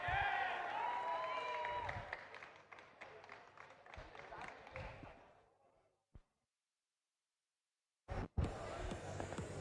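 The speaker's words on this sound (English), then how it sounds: "Can I hear a cheer for Red Alliance and Blue Alliance?" Crowd cheering and clapping at an FTC robotics semi-regional competition, loud and sustained for about five seconds before fading to near silence, then a short burst of noise near the end.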